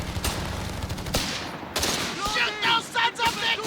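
Gunfire in a WWII strategy game with US airborne forces on a battlefield map, loud bursts of machine gun fire and scattered shots forming a dense fusillade, with sharp cracks over continuous battle noise and fainter tonal unit chatter near the end.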